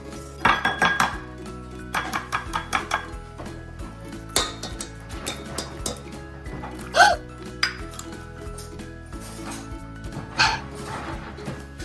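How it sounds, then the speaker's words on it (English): Eggs, milk, oil and vanilla whisked into chocolate cake batter in a bowl, giving repeated clinks and scrapes of utensil on dish in an uneven rhythm, with a steady tonal hum in the background. "Add eggs, milk, oil, and vanilla mix until smooth."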